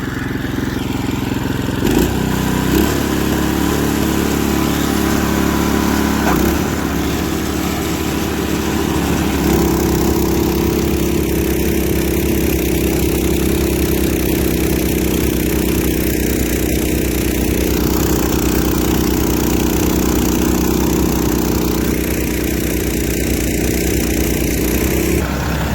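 Snowblower fitted with a swapped Predator engine, running near and loud at raised revs with a steady, continuous drone and a brief blip in speed early on.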